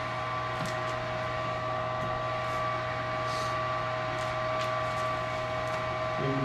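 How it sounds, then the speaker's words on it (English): An HVAC furnace's inducer motor runs with a steady, even mechanical hum and a constant whirring drone that holds unchanged throughout, with no talking. "We should get our inducer motor first."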